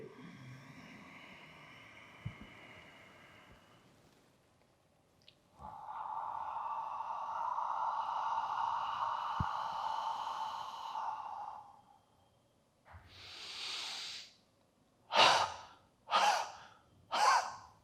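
A yoga practitioner breathes in audibly during a standing pose, with a long, steady, close inhale followed by several short, sharp breaths and sighing exhales in a quiet room.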